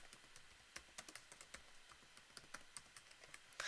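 Text being typed on a computer keyboard: quiet, irregular clicking keystrokes at a steady pace, alone with no talking.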